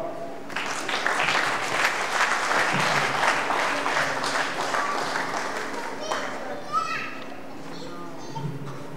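Congregation applauding at a church service: a sustained burst of clapping from a crowd, close and loud, with voices and children's chatter mixed in as it fades.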